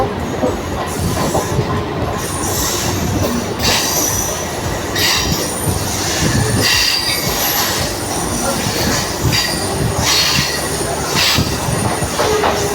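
A local train at a station platform near Kolkata, its wheels squealing loudly against the rails over a constant rumble and clatter of railcars, sustained for the whole stretch.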